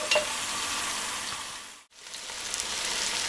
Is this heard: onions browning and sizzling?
yes